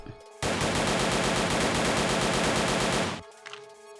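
Modded 5.56 rifle fired on full auto in the video game 7 Days to Die: one loud, continuous burst of rapid shots lasting about three seconds, then stopping abruptly, with no reload.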